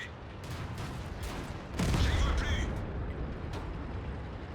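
Tank cannon firing in the World of Tanks video game: a booming shot with a heavy low rumble amid continuous battle noise, with several fainter distant shots around it.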